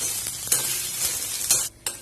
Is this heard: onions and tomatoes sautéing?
yes